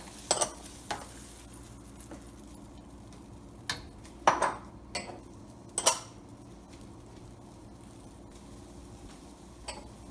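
Bamboo shoots and mushrooms tossed into a hot pan for Cantonese boneless chicken, with a steady low sizzle broken by several sharp utensil clanks and scrapes against the metal.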